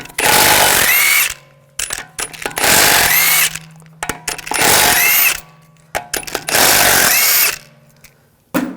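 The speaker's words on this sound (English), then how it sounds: "Using a 17mm socket, we're going to take the lug bolts off." A power wrench with a 17mm socket spins lug bolts off the wheel of a 2006-2009 Audi S4: four loud, sustained whirring bursts, each lasting about a second, separated by brief quiet pauses and small clicks.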